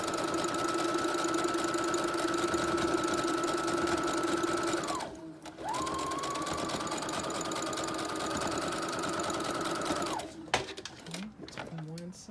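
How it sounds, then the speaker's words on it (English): A sewing machine stitches fabric for a kids cape with a steady whirring hum, pausing briefly midway and stopping near the end. "Just keep sewing straight down."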